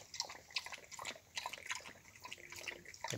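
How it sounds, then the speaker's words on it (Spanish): A dog laps water on a family farm in Cuba, a quiet rapid series of wet, irregular laps and drips heard close and faint. "El perro estaba loco por tomar agua."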